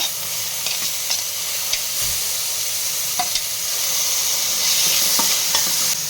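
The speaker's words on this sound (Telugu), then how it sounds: "ఆనియన్, పచ్చిమిర్చి పేస్ట్ వేసుకొని వేయించుకోవాలి." Onion and green chilli paste frying in butter with cumin in a kadai for pav bhaji: a steady, close sizzle with light scraping clicks as it is stirred.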